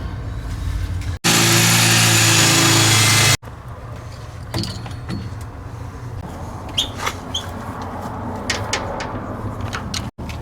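A power drill bursts into a loud, whirring run for about two seconds, drilling a hole for a grommet, then stops, leaving quieter background rumble and a few faint chirps.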